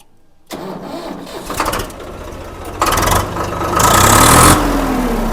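A first-owner Swaraj tractor from Punjab, parked on a slope, cranks and then fires up, its engine catching into a rough idle before revving louder toward the end.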